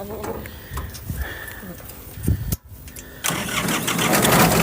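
An engine near a fishing spot cranks, catches with a loud burst and keeps revving in a rising, steady roar while someone talks over it.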